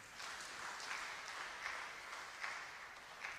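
Faint applause from an audience at a talk about work and employment, a soft continuous patter of clapping with small swells, heard at a distance.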